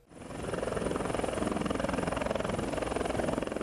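A helicopter carrying officials lands at an industrial free trade zone in Lagos, its rotor thudding in a loud, steady rhythmic chop that swells in and stays close.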